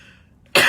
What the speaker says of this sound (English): Know me and my coughing.